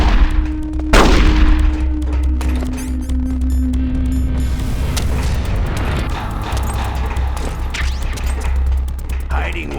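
Revolver fire in Metal Gear Solid: The Twin Snakes, a single loud boom followed by a sustained hum of game ambience and scattered faint clanks.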